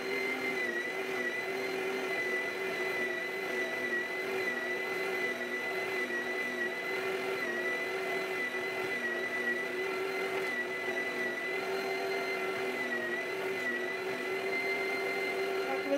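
An electric meat grinder drones steadily as it minces plums with their skins still on, a constant motor whine that runs loud and unbroken throughout with no pauses or speech.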